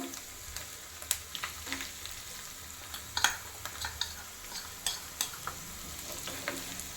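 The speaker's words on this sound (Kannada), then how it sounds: "ಇದನ್ನು ಅಷ್ಟೇ ಚೆನ್ನಾಗಿ ಫ್ರೈ ಮಾಡ್ಕೋಬೇಕು ಕಮ್ಮಿ ಫ್ಲೇಮ್ ಇಟ್ಕೊಂಡೆ ಫ್ರೈ ಮಾಡ್ಕೋಬೇಕು" Cumin seeds and drumstick leaves fry in a pan over a low flame for garlic chutney, giving a quiet, steady sizzle with scattered small pops and occasional stirring scrapes, with no voices.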